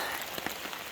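Rain falling steadily on the Appalachian Trail in Virginia on a hot, humid day: a dense, even hiss of drops on a surface with a few slightly louder patters, close and continuous with no voices.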